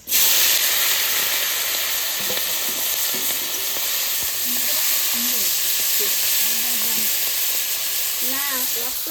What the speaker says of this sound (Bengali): এবার চিংড়ি মাছ ভাজা করবো,